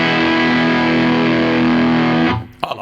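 Electric guitar through a cranked ToneX boutique overdrive pedal model, heard as a loud, thick, distorted chord that sustains alone for over two seconds before being cut off, followed by a brief string scrape.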